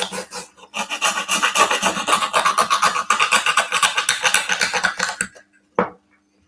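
A hand file rasps back and forth against a small Titanic model part in quick, even strokes, close and loud for about five seconds before stopping, followed by a single faint tap.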